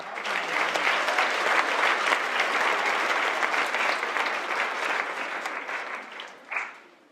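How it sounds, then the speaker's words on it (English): A crowd claps loudly and steadily, the applause holding strong before tapering off, with a last brief burst just before it fades out. "So let's give ourselves a round of applause"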